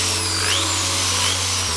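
A corded electric drill with no speed control spins at full speed, a steady, loud whine that holds unbroken, drops slightly in pitch near the end, and sounds close and alone without any talk.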